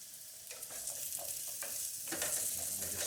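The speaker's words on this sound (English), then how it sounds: "We just hear it sizzling away." Chopped potatoes fry in a pan for an egg and potato curry, giving a steady close sizzle with soft stirring scrapes and crackles throughout, with no voices.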